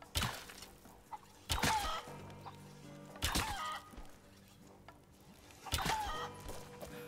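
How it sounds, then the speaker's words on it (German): Chickens cluck and squawk in the video game Rise of the Tomb Raider, several sharp loud bursts repeating irregularly over a quiet, low ambient background. "Na, wo kommen die ganzen Hühner her?"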